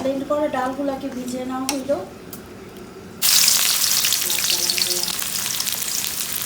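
Sliced onions frying for birista, crisp fried onion for haleem, hiss loudly in hot oil for the last few seconds, after a stretch of talk with only faint cooking noise behind it.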